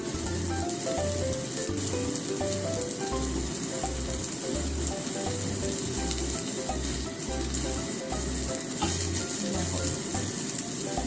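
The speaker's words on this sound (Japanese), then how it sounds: "ちょっと片面をね3分ほど弱火で焼きますよ。" Chive pancake frying on low heat in a pan gives a steady, even sizzle, continuous and fairly close, with a faint rhythmic mechanical thumping underneath.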